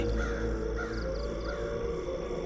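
A crow caws several times in quick harsh calls over a dense, continuous low background drone.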